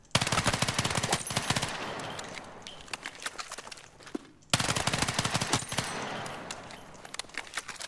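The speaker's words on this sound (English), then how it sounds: "I'm tap firing like, not sure how many taps I do in one magazine" SMG tap firing in the video game Battlefield 6: rapid short bursts of loud, close gunfire, repeated in quick controlled groups, with a brief gap midway before firing resumes.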